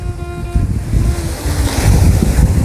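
Sea waves breaking steadily on a quiet shore, with a continuous surf wash and wind noise buffeting the microphone and no voices.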